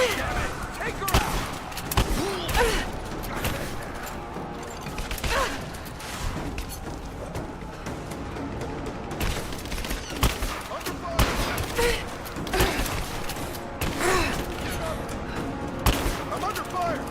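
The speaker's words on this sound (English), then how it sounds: "I'm under fire!" Sustained bursts of gunfire and fusillades crackle in Rise of the Tomb Raider, with repeated sharp volleys across the whole stretch, mechanical clanks, and in-game voices talking underneath.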